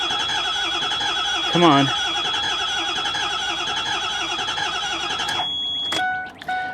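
A Ford E350 bus with a 6.0 diesel engine cranks over steadily with a rhythmic, labored starter whir, close and loud, then cuts out. Someone speaks briefly partway through.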